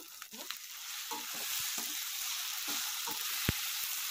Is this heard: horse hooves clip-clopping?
no